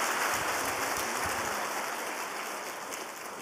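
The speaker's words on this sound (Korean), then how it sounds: "뜨거운 박수로 환영하며 축복하십시다" A church congregation at a Sunday worship service claps warmly to welcome a newborn baby: a dense, continuous wash of applause that holds steady, then gradually softens toward the end.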